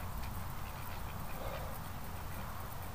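Ducks quack in a noisy outdoor farmyard, their calls blending into a busy, fairly faint background.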